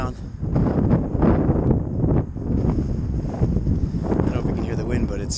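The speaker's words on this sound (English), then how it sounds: "I don't know if you can hear the wind, but it's getting stronger." Strong wind buffets the microphone outdoors in a steady, loud, rough rush that gusts and swells without pause for the whole stretch.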